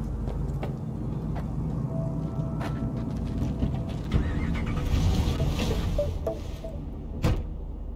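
A car in the video game Cyberpunk 2077 runs with a low engine rumble under scattered clicks and door-like knocks, a steady close drone with a brief swell midway and no speech.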